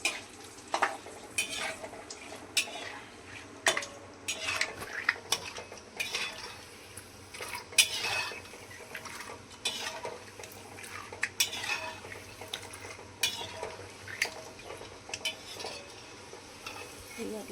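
Peanuts are roasted in a pan over low gas, a spoon scraping and clinking against the metal in irregular bursts, with a faint, soft sizzle running beneath the stirring.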